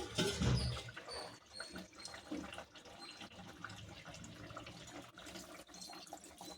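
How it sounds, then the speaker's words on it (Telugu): A glass of water pours and splashes into a chicken curry pot with a gurgling rush, close and fairly loud, then settles into a softer trickle. "కొంచెం వేసుకుందాం ఒక గ్లాస్ నీళ్ళు"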